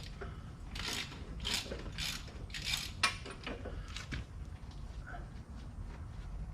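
Ratchet socket wrench undoing engine bolts during an engine removal, several quick bursts of close, faint ratcheting clicks in a steady rhythm with no talking.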